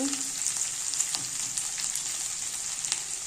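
Onions, carrots and chillies fry for upma in a pan with a steady close hiss of oil, while a few soft clicks and stirs sound over the constant sizzle.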